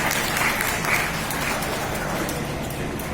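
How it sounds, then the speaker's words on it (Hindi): Loud applause from a crowd at a company foundation day event, steady dense clapping that holds across the whole stretch, with faint voices mixed in underneath. "जोरदार तालियां"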